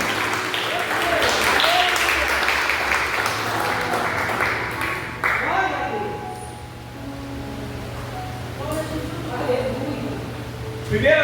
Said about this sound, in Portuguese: Se você pode dar uma linda salva de palmas para o Senhor.